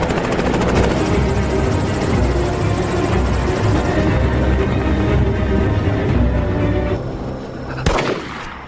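A military helicopter in an action film thunders nearby with rapid rotor chopping and a high whine, accompanied by bursts of gunfire, fading somewhat toward the end.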